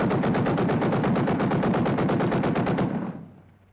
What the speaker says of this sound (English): gunnery practice.